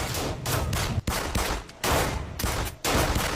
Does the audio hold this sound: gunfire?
yes